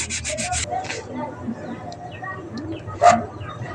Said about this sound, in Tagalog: konting liha pa